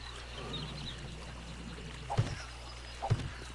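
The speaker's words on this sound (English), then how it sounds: "The sound of the beautiful pond, or lake, or ocean, whatever this is supposed to be" Gentle lapping water at the edge of a pond or lake in the survival game 7 Days to Die, a soft steady wash with two brief low splashes or plops standing out near the end.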